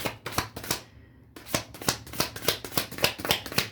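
Playing cards are shuffled in quick rhythmic riffles, pausing briefly near the middle before the fast flapping bursts resume, close and crisp.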